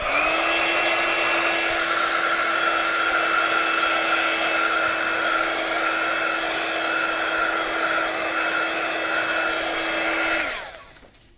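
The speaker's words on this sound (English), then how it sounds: "I'm going to give that just a tiny little blast of the heat tool because Versafine is a juicy ink" A heat tool blows steadily for about ten seconds to dry juicy Versafine ink on a stamped card. It makes a loud, even whirring rush with a constant motor hum, then cuts off and winds down near the end. No one speaks.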